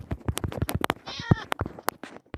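Minecraft cat meows in the video game, a single clear synthesized meow standing out midway amid close, rapid chatter and voices around it.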